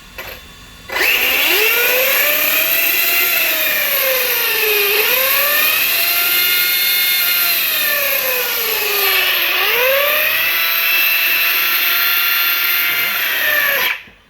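An Arrma Kraton EXB RC car with a 2200KV motor, 160A setup and body fitted, revved hard: a loud, sustained electric whine that rises and dips in pitch across several throttle pulls, running nearly the whole time.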